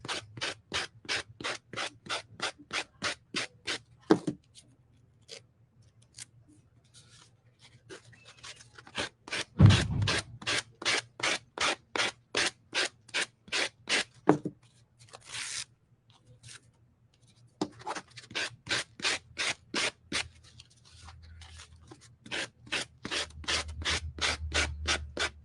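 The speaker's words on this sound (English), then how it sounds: "But first, we need to sand." A canvas is hand-sanded in fast, regular back-and-forth strokes, a crisp close rasping rhythm that pauses briefly with a few thumps and handling noises before resuming.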